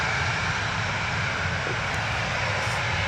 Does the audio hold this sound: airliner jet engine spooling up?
yes